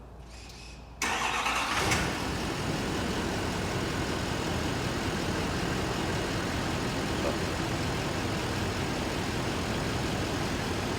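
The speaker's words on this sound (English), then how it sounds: "I will remote start it for you" A 2012 Chevy 3500 pickup engine is remote started close by. It cranks and catches abruptly about a second in, then settles into a loud, steady idle rumble.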